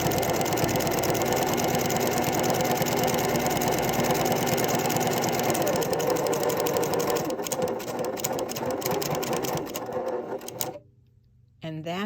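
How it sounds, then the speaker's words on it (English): A sewing machine stitches across the bottom of a knit fabric drawstring bag, with a loud, steady, close-up whirring clatter for about ten seconds. It cuts off briefly, then resumes, and a voice talks faintly in the background. "So I'm just going to sew across the bottom."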